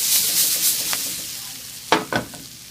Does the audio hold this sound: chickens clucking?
no